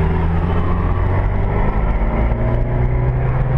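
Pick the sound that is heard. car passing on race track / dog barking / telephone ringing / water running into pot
car passing on race track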